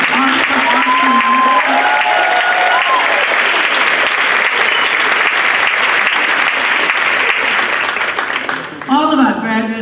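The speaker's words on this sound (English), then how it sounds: "Can we please give Landon a beautiful, another round of applause for such an awesome." Loud, sustained applause and cheering from an audience at an adult education graduation ceremony honouring a graduate, with voices audible over the clapping throughout.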